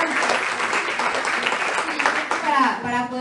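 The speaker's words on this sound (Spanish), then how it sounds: "un super aplauso para todos los mujeres y todos" Applause from an audience at a women's panel event, a dense steady clatter of many hands lasting a few seconds, with a voice rising over it near the end.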